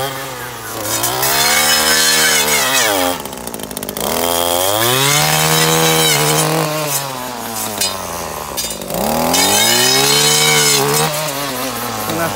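An ECHO multi-tool with an SRM universal saw attachment cutting branches, a loud, close two-stroke engine whining up and down through several revving cuts with brief dips between them.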